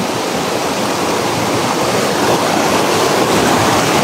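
Malutongtong Falls in Sablayan, Occidental Mindoro, roars as a waterfall, a steady, loud, close wash of falling water that runs unbroken throughout with no voices.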